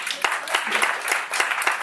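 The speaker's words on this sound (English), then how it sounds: "that deserves applause" Brief scattered applause from a small audience at an author talk, a few distinct claps standing out over a soft crowd wash, with some voice-like activity mixed in.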